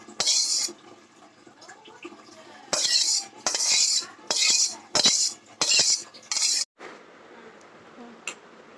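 Serving prawn kofta curry: metal utensils clink and scrape against dishes in a string of short, bright bursts, with quieter kitchen sounds and a little stirring between them.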